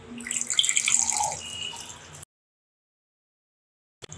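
Strained green apple juice pours into a glass in a close, steady trickling stream for about two seconds, then stops and goes silent.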